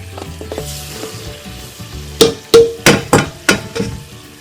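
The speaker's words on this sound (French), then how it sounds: "j'attends que ma matière grasse soit bien fondue pour incorporer ma farine." Butter or fat melting with water coming to a boil in a pan for choux pastry, with a soft sizzle and bubbling, then a series of five or six loud sharp knocks and stirring clatters from close by.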